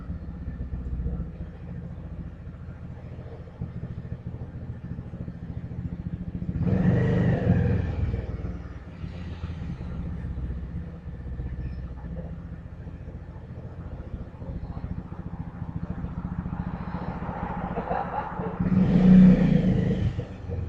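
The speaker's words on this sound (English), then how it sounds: "It's noisy out here, isn't it? I'm right here in the front of the hotel." Steady street traffic rumble outside a hotel front, with passing vehicles swelling louder twice, engines revving by up close, then fading back to a constant background drone.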